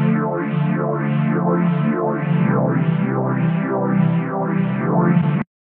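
Sustained synth or instrument tone processed with a plugin pin connector to create a stereo effect, swelling in a regular sweeping pulse about twice per second like a filter or phaser sweep, steady and fairly loud before stopping abruptly.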